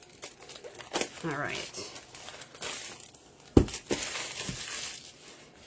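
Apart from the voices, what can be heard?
cutting paper for a mini album craft kit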